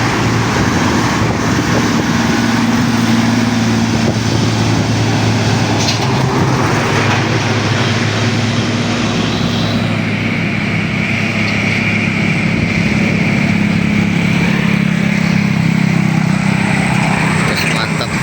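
An ALS 154 executive coach pulls out of the Padang Panjang bus terminal, its engine a loud, steady drone that continues throughout, mixed with surrounding terminal noise and traffic.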